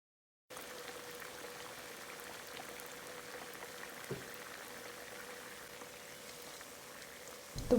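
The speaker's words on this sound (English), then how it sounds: "The pan I'm using to fry these plantains, I can use 1 long slice of plantain and 2 small slices to fry" Plantain slices frying in hot oil in a pan, one long slice and two small ones, giving a steady soft bubbling sizzle that runs evenly throughout with no talking.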